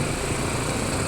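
An old Ducati motorcycle, brought back to life after 48 years, runs steadily at a high-pitched, buzzing idle, close by and continuous with no pauses.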